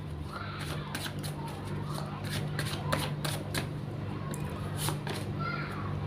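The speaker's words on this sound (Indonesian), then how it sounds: "Langsung saja saya shuffle kartunya." A deck of tarot cards is shuffled by hand in quick, repeated riffling bursts, close and crisp, with a soft voice in the background.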